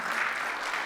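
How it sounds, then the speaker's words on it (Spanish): Church congregation applauding together, a dense, steady wash of clapping that fills the whole short moment at close range with no gaps. "Si le va a dar un fuerte aplauso, déselo a Él."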